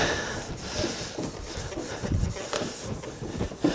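Old wooden furniture being rubbed down by hand, close and moderately loud, giving repeated scratchy strokes back and forth in an uneven rhythm, with no talking.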